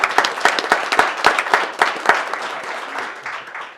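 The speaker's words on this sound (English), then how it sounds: "I think she deserves a round of applause." A burst of applause at a county board of commissioners meeting, many hands clapping in quick irregular rhythm, loud and close, tapering off toward the end.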